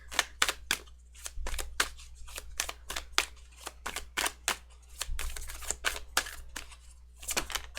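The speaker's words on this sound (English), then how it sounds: "It's a lot of shuffling." A deck of tarot cards being shuffled by hand, giving a rapid run of crisp, papery riffles and snaps close to the listener, with short bursts and brief pauses in between and a low steady hum beneath.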